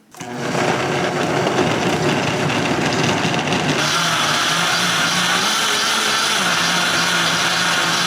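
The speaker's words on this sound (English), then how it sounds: "We're gonna take this and blend it so it's smooth and amazing." Kitchen blender whirring steadily as it purées homemade tomato soup until smooth, a loud continuous motor drone that shifts slightly in pitch partway through, with no talking.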